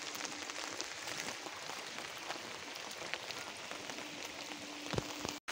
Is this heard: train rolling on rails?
no